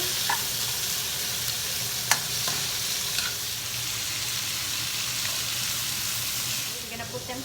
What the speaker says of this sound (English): Cook the shrimp until they're pink.